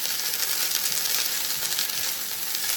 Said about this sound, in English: Allowing that rice to get toasted a bit and warm up